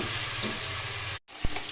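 Mixed vegetable curry with added sugar sizzles and fries steadily in a pan, broken by a brief silent gap and then a sharp scrape or knock of the utensil.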